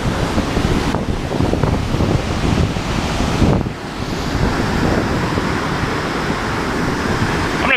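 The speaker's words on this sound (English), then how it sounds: "The water is just flying through here right now." Steady, loud roar of water rushing under a bridge, with gusty wind buffeting the microphone, continuous throughout with a brief dip midway.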